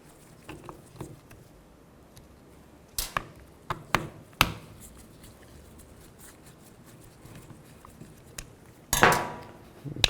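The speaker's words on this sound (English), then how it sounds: "Use a T20. Take these screws out." Torx T20 screws being taken out of the back of a 2000-2006 Chevy Tahoe steering wheel: sparse sharp metallic clicks and taps over a quiet background, ending in a louder rattle.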